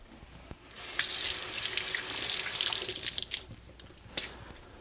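Running tap water in a kitchen sink as hands are wetted while working with sourdough, a steady splashing rush that starts abruptly, close and fairly loud, with brief drips and splashes as it tails off.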